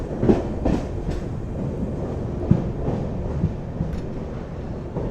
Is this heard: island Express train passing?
yes